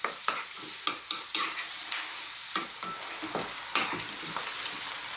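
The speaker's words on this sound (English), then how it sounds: "Let's cook this for about 3 to 4 minutes. Stirring often" Vegetables sizzling in a hot pan for a broccoli cheese bake, a steady frying hiss broken by frequent scraping stirs and clicks of the utensil, close up with no talking.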